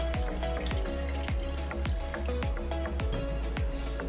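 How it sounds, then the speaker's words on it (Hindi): Water poured into a pan of shahi paneer curry, a steady run of drips and small splashes falling at a regular pace, close and fairly quiet. "और इसमें थोड़ा सा पानी ऐड कर देंगे।"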